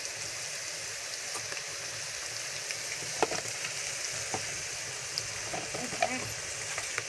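Cumin, salt, turmeric and other spices fry in a pan with a steady, hissing sizzle, as a spoon stirs and taps now and then. Faint talk is heard in the background.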